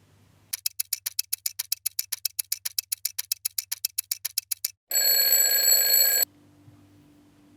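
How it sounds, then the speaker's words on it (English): A kitchen timer goes off while a crumble bakes: a rapid run of sharp, loud ticking beeps followed by a steady continuous ring, then it stops, heard alone in a quiet kitchen. "The timer's gone off."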